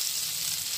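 Shrimp fry in oil in a pan for a Bengali taro stolon dish with shrimp and mustard, a brief steady close sizzle with no talk.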